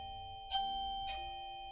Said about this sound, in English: The doorbell's ringing.